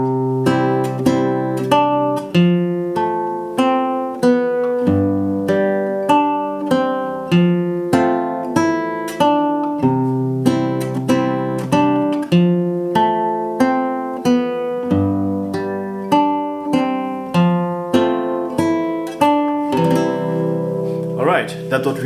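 African fingerstyle guitar playing a seben rumba pattern in C, quick plucked notes in a steady repeating rhythm with bass notes under bright melodic runs, clear and close, with no voice over it.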